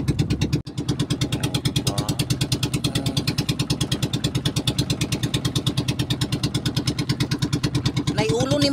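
Motorcycle engine running near an island beach resort, a close, loud rhythmic putter with steady pulsing firing, a brief dip early on and faint voices underneath.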